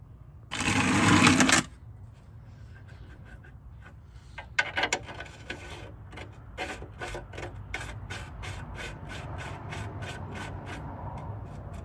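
A torque wrench tightening the oil drain plug on the crankcase of a 997.1 Porsche 911 Turbo: a loud rattling burst, then a run of rapid, evenly spaced ratchet clicks, close up with no talk.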